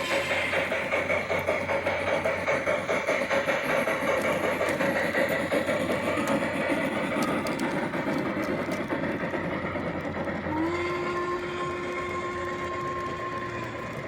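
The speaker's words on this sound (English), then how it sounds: "Here is another shot of 3016 and 3177 late last fall running." Two locomotives, numbers 3016 and 3177, running on a track in late fall, a steady rumbling churn with rhythmic mechanical clatter, then a sustained whistle tone sounding near the end.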